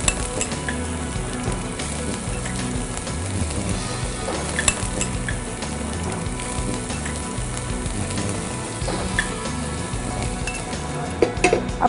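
Onion and green chilli fry in a pan with a steady, close sizzle, while a spoon stirs and scrapes against the metal and gives occasional clinks.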